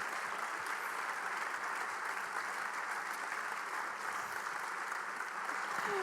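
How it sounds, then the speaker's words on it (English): An audience gives warm, continuous applause for Rachel, a dense, even clapping that holds steady throughout with no voices over it. "What an applause for Rachel"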